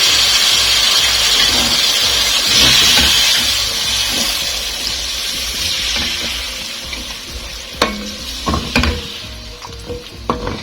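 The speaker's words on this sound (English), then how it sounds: "And then I will put in my coconut milk." Coconut milk goes into a hot cooking pot where cream is already cooking, and a loud steady sizzle and bubbling rush fill the first several seconds. The sound then settles quieter, with a few clinks of a utensil against the pot.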